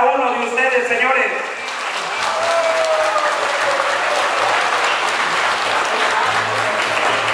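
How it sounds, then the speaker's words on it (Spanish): A crowd applauds taxi drivers at their day-of-celebration gathering in Misantla, loud steady clapping rising after a brief amplified voice at the start, with a whistle cutting through partway. "Hoy en su día les pido un fuerte aplauso para cada uno de ustedes, señores."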